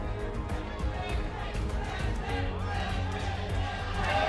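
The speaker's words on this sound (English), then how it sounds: "Crowd seem to know who they like." Arena crowd at a League of Legends MSI group-stage esports match between Team Liquid and Royal Never Give Up, a steady dense roar of cheering and chatter filling the hall throughout, with no clear talk over it.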